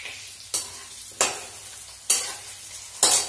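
Potatoes fry in a pan on a home stove, with a continuous sizzle punctuated by four loud, evenly spaced scraping bursts as they are stirred, close and without speech.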